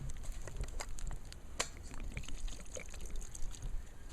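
Water is poured into a pot on a fire pit grill outdoors, a steady splashing pour with scattered pattering and crackles, close and moderately loud, with no talking.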